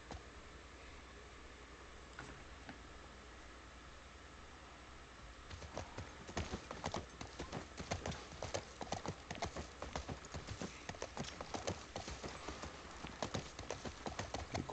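Horse hooves clip-clop in The Last of Us Part I. Only faint ambience plays at first, then a steady run of hoofbeats starts about a third of the way in and carries on, close and even, to the end.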